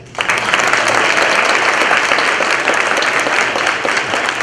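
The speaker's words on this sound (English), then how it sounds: "a big round of applause for a great job this morning" Loud, sustained applause from a large breakfast-event audience, steady clapping filling the whole stretch without pause.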